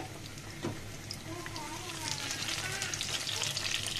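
Garlic cloves and onion frying in hot oil for a tempering over a drumstick-leaf and lentil dish, a steady close sizzle that grows slightly louder halfway through, with a faint voice at times.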